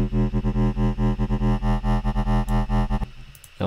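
A buzzy synth sine wave tone with a smooth core and gritty, noisy upper edge, pulsing in steady rhythmic hits before cutting to a quieter rough tail.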